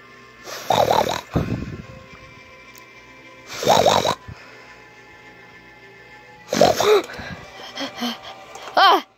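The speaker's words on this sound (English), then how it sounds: "Dang, you snore loud." Loud snoring in three strong rasping bursts a few seconds apart, with softer snorts and wheezes between them.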